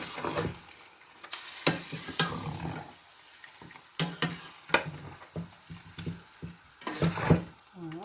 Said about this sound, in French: Donc là, je touille de nouveau.